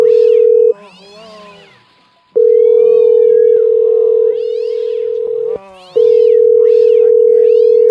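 A steady electronic tone hums loudly through most of the clip while several cat-like meows and a high crying voice rise and fall over it.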